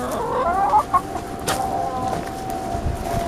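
Backyard chickens cluck softly and intermittently among apples fallen in a fruit garden, a few short murmured calls over a faint outdoor background.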